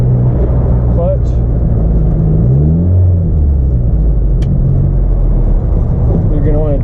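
A classic right-hand-drive Austin Mini engine drones low and steady from inside the cabin as it is driven and shifted through gears, with people talking over the rumble.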